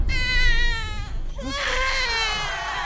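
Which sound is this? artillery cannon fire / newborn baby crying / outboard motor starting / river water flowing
newborn baby crying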